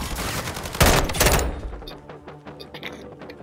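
Rapid bursts of SAB 50 gunfire in Call of Duty Modern Warfare II, a loud dense volley of shots in the first second and a half, then fading to sparse faint in-game sounds.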